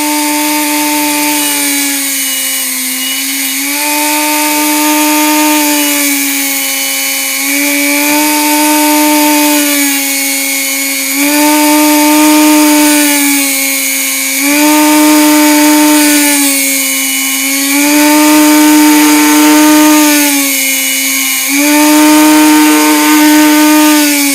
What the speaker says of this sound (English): we're going to go ahead and cut these using the Dremel tool and the disc blade